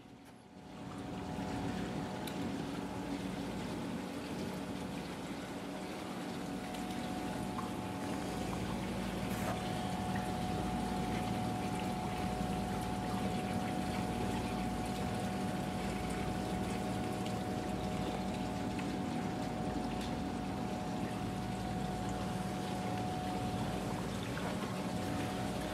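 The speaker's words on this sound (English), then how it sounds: "The circulation pumps in the outer ends of the tanks help to keep the substrate clean" Aquarium circulation pumps hum steadily in a pair of fish tanks, a faint continuous whir with a thin tonal whine and soft water churn, unchanging throughout with no talking.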